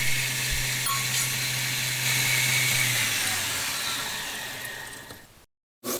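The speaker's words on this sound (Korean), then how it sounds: "날 정리를 끝내고 수평 그라인더에서 검지손가락 부분을 정리를 해줍니다." Horizontal belt grinder working the index-finger guard area of a handmade camping knife blade, a steady high whine with a low hum that fades off, then cuts out abruptly near the end.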